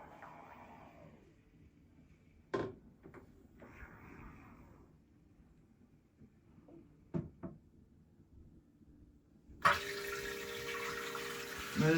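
A HOROW T38 smart toilet clicks softly a few times as its button is pressed, then a sudden loud rush of flushing water fills the last seconds.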